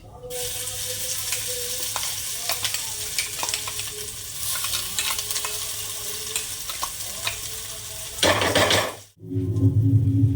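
Asafoetida with ginger and green chili paste sizzling in hot oil, a loud steady hiss with light utensil scrapes, then a brief cut before a deeper, fresh burst of frying near the end.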